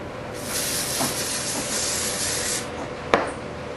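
A steady hiss of spray paint onto a stencil runs for a few seconds, then stops, followed by a short sharp click.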